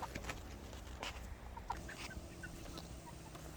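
Cockerels cluck softly and intermittently in the background, with a few short calls over low, steady ambient noise.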